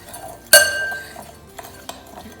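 A sharp clink of a utensil against a bowl while mixing ground ginger into dry ingredients, followed by a couple of lighter taps fading into quiet.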